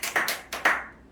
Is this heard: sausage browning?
no